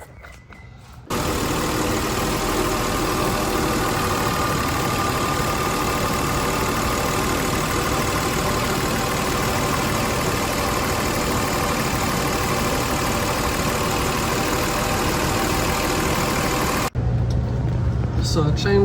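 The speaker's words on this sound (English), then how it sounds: "The car runs great" A 1997 Volvo S90, freshly fitted with a new timing belt, runs at a steady idle close to the microphone, a continuous broadband engine hum lasting about fifteen seconds, then cutting off abruptly.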